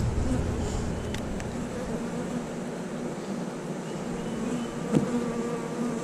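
Worker bees and drones buzz in a hive, a steady continuous drone filling the whole stretch at close range with a couple of faint clicks, no voices heard.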